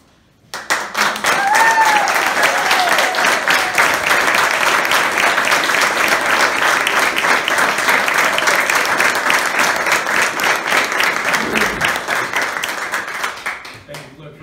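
Audience applauding four new police officers at a swearing-in ceremony in New Bedford, a loud sustained round of clapping from a crowd that fades out after about thirteen seconds.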